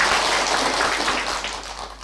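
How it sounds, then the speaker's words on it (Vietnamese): Audience applause at a Buddhist nun's dharma talk, a steady broadband wash of clapping that holds for about two seconds and then eases slightly, with no voices over it. "chúng ta trong một tràng pháo tay vui vẻ xem nào"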